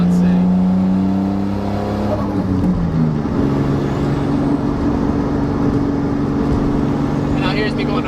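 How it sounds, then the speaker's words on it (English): A manual car shifting up into third gear without preloading, engine note dropping as the gear engages and then droning steadily under load at close range. "here's me shifting to third without preloading it"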